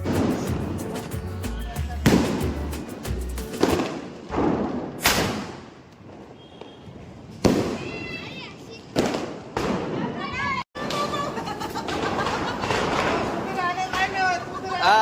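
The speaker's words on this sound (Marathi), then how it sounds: "मुलं खाली फटाके वाजवण्यासाठी आले होते" Diwali firecrackers burst outdoors in a family celebration, giving several sharp, loud bangs and crackling pops at irregular intervals, with children and adults talking and calling out between them.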